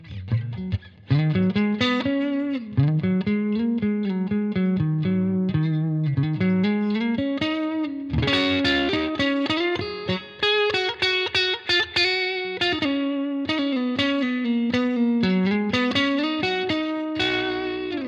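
An electric guitar on the neck pickup through a Tonex amp modeler, played alone with a warm, slightly gritty tone, melodic single-note lines and chords ringing steadily throughout with some effects shimmer.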